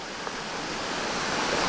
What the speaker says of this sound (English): I mean, this is a waterfall